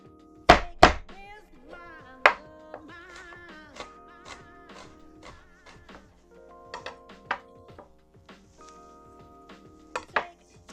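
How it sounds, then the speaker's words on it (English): Three garlic cloves are smashed on a kitchen board while making pork stew: a couple of loud, sharp whacks near the start, then scattered lighter knocks and taps at close range. "We got 3 cloves of garlic. Smash those up, give them a good smash."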